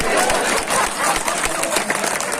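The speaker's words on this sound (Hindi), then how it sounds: "आप लोग जोरदार तालियां बजाइए" Audience at a Hindi comedy poetry show in Patna clapping loudly, a dense, continuous wash of applause from a large crowd, close and sustained.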